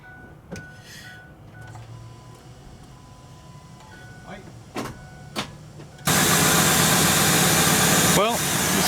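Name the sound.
2003 Ford Super Duty truck engine starting and idling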